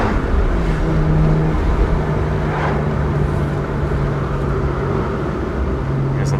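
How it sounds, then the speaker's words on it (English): Steady rushing wind buffeting inside a modified BMW 1M driven with the windows down, a constant roar mixed with low engine drone and road rumble throughout. "I know you guys are getting wind noise"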